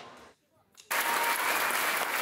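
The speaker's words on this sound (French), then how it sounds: "le public continue d'applaudir" Concert audience applause bursts in loudly after a brief quiet moment and then holds as a dense, sustained wash of clapping.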